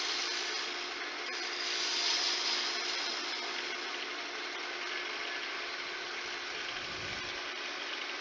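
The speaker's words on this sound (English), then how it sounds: "we'll take our spindle gouge and we pull cut and bring our depth even all the way through" A spindle gouge making a pull cut on a wood lathe while turning a coaster, a steady loud broadband hiss and whir of the spinning work and cutting edge throughout, with no talk.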